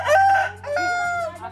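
A rooster crows once outdoors, a loud, close cock-a-doodle-doo that rises and then trails off, heard clearly over a low background hum.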